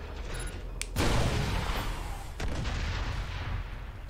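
Gunfire and booming blasts in the video game Gears of War 2, a few heavy shots and impacts over a steady rumbling battle background, with no talking.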